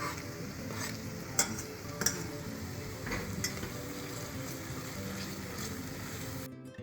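Minced garlic sizzles as it drops into an oil-slicked tomato sofrito for a seafood zarzuela, a steady close frying hiss with a few light utensil clicks that cuts off abruptly at the end.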